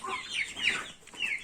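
Hens and chicks cluck and cheep together nearby in a short burst of overlapping, high chirping calls.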